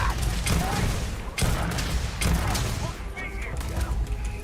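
A gun in the video game Starfield fires in quick, loud bursts of sharp shots with thumping booms, packed close together over a busy game mix. A voice speaks over the gunfire.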